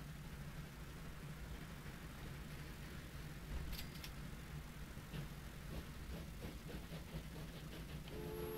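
A quiet, steady mechanical hum of a train engine idling and pulling away in the video game Train Fever, with a few faint clicks and hisses over the low drone.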